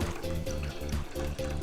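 Organic low sodium chicken broth pours steadily from a carton into a pot for cooking brown rice, a continuous close liquid gurgle with pulsing glugs, no voices.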